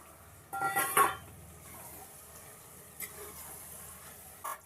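Goat tripe tipped into a pan with turmeric: a clatter of metal and a sizzle as the meat lands, then quieter scraping and a couple of light clinks, with no speech.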